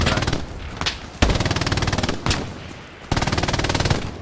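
Machine gun fire in the World War II shooter Hell Let Loose, repeated loud bursts of rapid rattling shots broken by brief gaps and sharp single blasts, with no voices.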